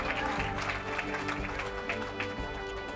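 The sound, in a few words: crowd applause for a police K9 handler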